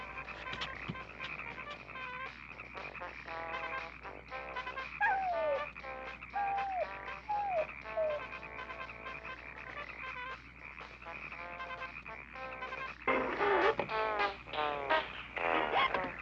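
Frogs croak continuously in a dense, rhythmic chorus from the 1972 horror film Frogs, with a few tonal warbles mixed in and a louder burst near the end.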